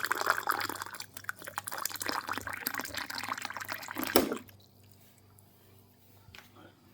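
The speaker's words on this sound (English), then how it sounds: "and then fill with water." Spring water pours into a cup for fresh garden mint tea, a close, bright splashing stream lasting about four seconds before stopping abruptly, leaving a faint quiet trickle.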